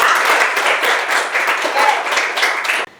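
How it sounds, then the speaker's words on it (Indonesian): Classroom applause for a student's good example during a lecture: a room of people clapping steadily and fairly loudly for about three seconds before it cuts off abruptly. "Kita kasih tepuk tangan buat Adi."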